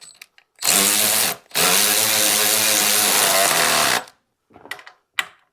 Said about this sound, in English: finish it up with power tools because I'm lazy